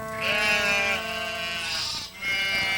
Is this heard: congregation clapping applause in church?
no